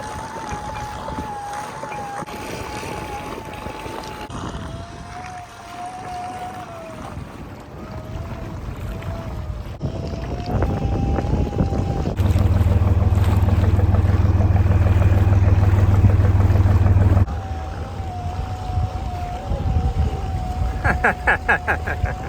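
A sailboat on a solo passage toward Syracuse, Sicily, motors along under engine power, a steady droning whine with shifting pitch heard over constant wind and water noise.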